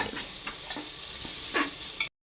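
Onions, ginger, green chili and crushed garlic sauté in a pan for a pressure-cooker biryani, giving a steady close sizzle with a few light scrapes and ticks of stirring, no voices.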